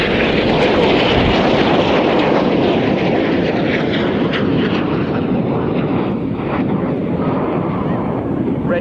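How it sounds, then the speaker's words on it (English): Red Arrows RAF jets fly in close formation at an air display, including a pair flying upside down, and their engines make a loud, steady roar that fills the whole stretch and fades slightly toward the end. "Red 6 and 7 will now fly in close formation upside down as Reds 8 and 9 roll around"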